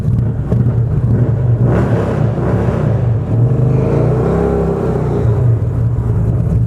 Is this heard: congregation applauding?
no